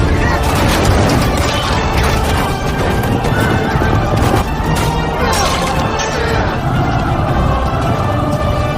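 War horses neigh and whinny loudly amid a dense, continuous battle roar, with hooves clattering, crashes and booms layered throughout.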